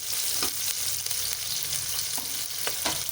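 Ghee and oil sizzle steadily in a pan while tomato bath ingredients sauté, with a few scrapes of stirring cutting through the frying.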